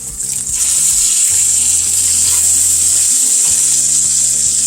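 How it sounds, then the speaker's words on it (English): Ahi tuna steaks sear in a hot pan with a loud, continuous bright sizzle, broken by a few soft knocks and clatters as the steaks are turned over. "It has now been 2 minutes, so I'm going to turn my steaks."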